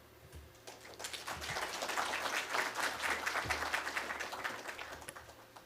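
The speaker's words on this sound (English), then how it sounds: "Another round of applause for him, please." Applause from an audience after a corporate plan launch presentation, many hands clapping that build up and hold steadily before tapering, heard at some distance over a low hum.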